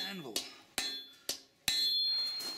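A hammer strikes a heated knife blade on an anvil while the heel is drawn out, giving four sharp metallic blows at irregular spacing, each followed by a ringing decay.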